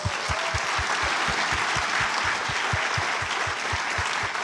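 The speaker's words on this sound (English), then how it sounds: "Let's give them all a round of applause." Audience at a live charity stage event gives a warm, steady round of clapping, dense and continuous from many hands, with a few louder claps standing out near the front.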